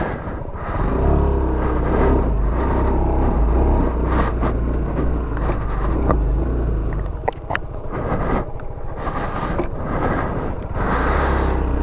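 A Sym Joyride 300 scooter on its first ride in snow, its engine running with a loud, steady low rumble and a few swells of revving throughout, with no voices.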